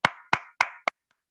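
Four loud, sharp hand claps in quick succession, roughly evenly spaced, followed by two faint distant claps trailing off. The claps are close and isolated, with no talking.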